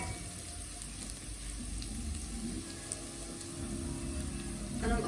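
Tomatoes go into a pan of frying onions and peppers for homemade Egyptian shawarma, giving a faint, steady sizzle and crackle with a slight rise near the end.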